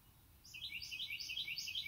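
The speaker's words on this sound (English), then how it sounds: "can you guys hear the birds in the background?" Faint birds chirp in the background, a repeating series of high, quick tweets over quiet ambience.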